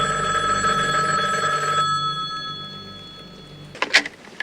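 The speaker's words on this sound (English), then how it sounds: "and the phone rings" A telephone bell rings in a motel room at night, a loud sustained electronic ring lasting almost two seconds before cutting off, followed by a brief clatter as the receiver is picked up.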